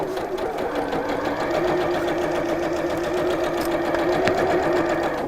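Sewing machine running with its thread tension turned up to the maximum setting of 9, a loud steady motorized whir with rapid rhythmic needle chatter that carries on evenly throughout, with one faint click near the end.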